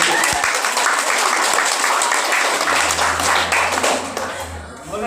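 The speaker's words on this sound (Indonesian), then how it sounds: "Mulai sekarang itu ya boleh tepuk tangan." A crowd at a student orientation closing ceremony claps vigorously, with dense, continuous applause from close by that stays loud throughout and tapers slightly near the end.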